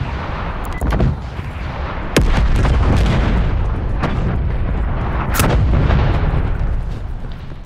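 Artillery strike in Call of Duty: Black Ops Cold War, a barrage of loud booming impacts and sharp blasts rolling one after another in dense succession.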